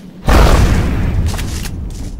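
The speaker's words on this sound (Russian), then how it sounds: "Это, кстати, был первый выстрел из нового дробовика" The new shotgun in the video game XCOM: Long War fires once, a loud booming blast that rolls into a long rumbling tail with faint crackling debris afterward.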